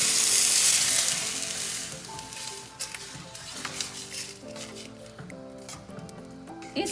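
Water poured into a biryani pot of rice over heat gives a loud rushing sizzle at first, then settles into softer bubbling and crackling with some faint tonal sounds in the background.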